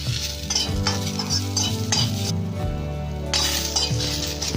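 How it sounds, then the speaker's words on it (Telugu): Chillies fry on a low flame for a tamarind chutney, giving a steady soft sizzle broken by a few metallic clinks of stirring, all over a constant tonal background drone. "మిరపకాయలు వేయించేటప్పుడు సిమ్ ఫ్లేమ్లో పెట్టి వేగాలి."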